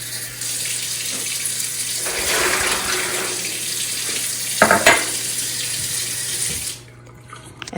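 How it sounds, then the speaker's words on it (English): Water pours steadily into a container, eight cups in all, a loud continuous splashing stream that shifts in tone as the vessel fills, then stops near the end. "we're going to add 8 cups of water to this container"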